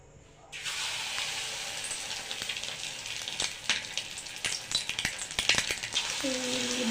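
Egg 65 pieces dropped into hot oil, starting a sudden loud bubbling sizzle that rises and crackles irregularly and builds toward the end, with no talk over it.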